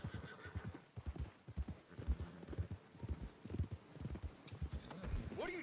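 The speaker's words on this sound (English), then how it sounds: "Get a hold of that horse, Arthur." Rhythmic clip-clop of horse hooves with a horse neighing and whinnying, set against Red Dead Redemption 2 game ambience and some low background voices.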